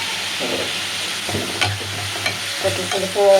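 Okra and chilies fry in oil with a constant crackling sizzle, broken by scraping stirs from a utensil against the pan, close and fairly loud, with no talking.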